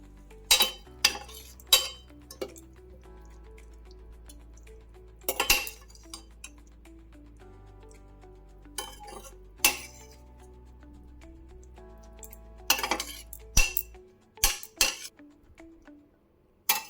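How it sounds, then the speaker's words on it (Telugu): Cooked food is spooned from a pan into a mixer jar, giving scattered metal and glass clinks and scrapes of a spoon separated by quiet pauses. "So let's move it in to the mixie jar."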